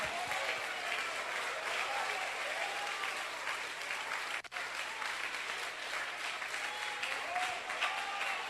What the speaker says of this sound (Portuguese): batam palmas e glorifiquem a Jesus